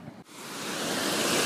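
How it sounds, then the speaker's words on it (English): A river pouring over falls beneath a bridge makes a steady, loud broadband roar that grows slightly fuller after a brief dip near the start, continuous with no voices. "you can hear the river obviously falling down"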